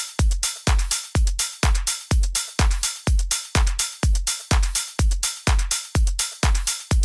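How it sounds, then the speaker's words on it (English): A 909-style hi-hat drum sample loops in a tight, steady rhythm, crisp bright hits repeating evenly with a hard punchy low thump under each, loud and alone with no voices. "I like the texture of this sample, the 909-ish kind of hat"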